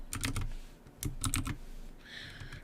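Code is typed on a computer keyboard in short bursts of close, quiet key clicks separated by pauses, with no talking.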